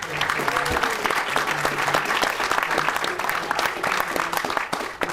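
A university debate audience applauds its climate panelists with full, continuous clapping from many hands, steady and fairly close, with a faint voice or whistle-like tone occasionally poking through.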